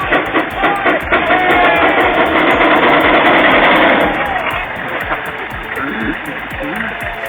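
A steam tractor engine runs steadily, loud and close, with a continuous mechanical drone under a speaking voice; the sound eases slightly about halfway through.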